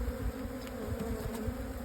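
Honey bees at a hive give off a steady, soft buzzing drone during a February hive visit. The hum is continuous and faint, and no voices are heard.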